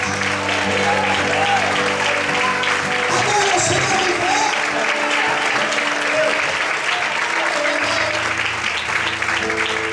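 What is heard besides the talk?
church congregation applauding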